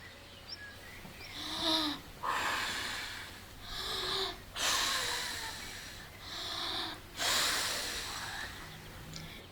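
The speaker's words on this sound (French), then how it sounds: "Il prit alors sa plus profonde respiration et souffla comme un fou." The big bad wolf from the three little pigs story, as a sound effect for an audio tale: four strong, breathy huffs and blows follow one another at a steady pace, close and raspy, with no talking.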